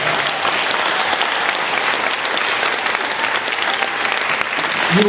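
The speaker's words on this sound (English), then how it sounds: "So give yourself all a wonderful round of applause" Audience applause at a school band concert, a thick, continuous roar of many hands clapping in a hall, loud and steady throughout without a break.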